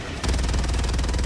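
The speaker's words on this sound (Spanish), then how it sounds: "Debe ser tiros que rebotan" Rapid bursts of gunfire in the video game Helldivers II start abruptly and continue as a steady, dense rattle of shots, loud and close throughout.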